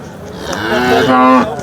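A cow gives a single loud, drawn-out moo close by at a cattle market, rising and then fading over a second or so.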